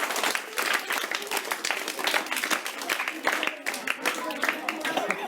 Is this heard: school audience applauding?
yes